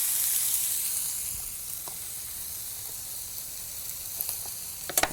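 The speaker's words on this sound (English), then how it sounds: "oil the tomatoes and grill them until they're tender but not mushy" Oiled tomatoes sizzle on a grill, a steady soft hiss with faint crackles that stays even and fairly quiet, ending in a couple of sharper pops near the end, with no talking.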